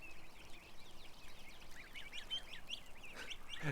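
Ducks quacking and chattering in a small group outdoors, a steady murmur with a louder burst of calls near the end.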